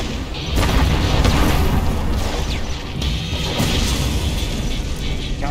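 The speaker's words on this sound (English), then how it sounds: "Arming cruise missile" Cruise missile strike explosions in C&C Generals rumble on as a loud, sustained wall of booming crashes and debris, with heavy low-end impacts layered over each other throughout.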